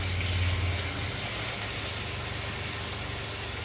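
Boiled pierogies sizzle in a pan of hot oil and butter, giving a steady, close hiss with a low hum underneath and no talking.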